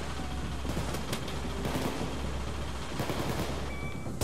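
Dense, continuous gunfire from snipers in Payday 2 fills the whole stretch, with rapid overlapping shots and a loud, busy background and no clear gaps.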